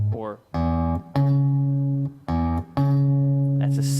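Sustained pitched notes sound one after another to form an interval of a sixth, two pairs of clean, steady tones separated by brief pauses and heard up close.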